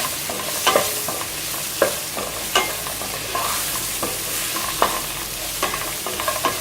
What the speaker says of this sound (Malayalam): നമ്മളിവിടെ ഒരു 4 സവാള അരിഞ്ഞ് വെച്ചിട്ടുണ്ട്, അതൊന്ന് വഴറ്റിയെടുക്കാം